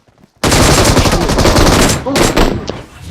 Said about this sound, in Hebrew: הנה, היה שם יריות